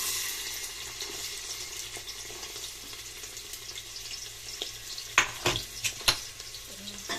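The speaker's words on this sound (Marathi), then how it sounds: "तेल तापले आपलं चांगलं तर इथं मी कांदा टाकणार आहे" Chopped onion dropped into hot oil for a green-chili village-style chicken curry, giving a steady broadband sizzle with a few sharp clinks and stirring knocks near the end, no talking.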